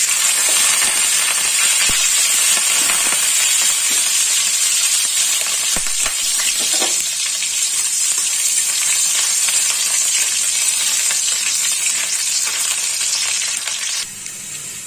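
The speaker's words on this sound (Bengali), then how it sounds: "রসুনটা একটু ভাজা হয়ে গেছে" Chopped garlic frying in a little oil in a pan for pesto pasta, a steady bright sizzle and hiss throughout with occasional soft clinks of stirring, close up, ending abruptly with a quieter tail.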